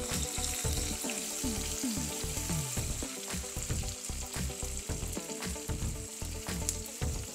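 Onions fry for a spinach dal, sizzling steadily and loudly in a pan while a spoon stirs and scrapes in an irregular rhythm, with no talk.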